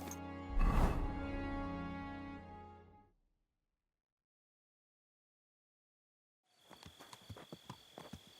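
Horse hooves clip-clop in a ridden walk in the medieval game Kingdom Come: Deliverance 2, a close, busy patter that stops abruptly, followed by silence and then a few light clicks.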